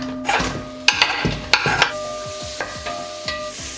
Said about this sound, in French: Tu verses de l'huile d'olive et tu fais revenir l'oignon rouge.